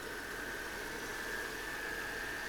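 A 2010 Mercedes-Benz GL550 AMG wide version with a 5.5-liter V8 and four-wheel drive idles steadily, a smooth, even engine hum with a faint whine, heard close and without talk.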